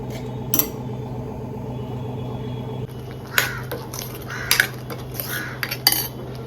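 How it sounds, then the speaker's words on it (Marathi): Masala being stirred in a pan until the oil separates, for a Maharashtrian fish curry: metal utensil clinks and scrapes against cookware come in scattered bursts over a steady low kitchen hum, with no one talking. "तेल सुटेपर्यंत ह्याला असं परतावं, की परतलं की चांगलं, ह्याला तेल सुटलं की छान असं याला कलर पण येतो छान"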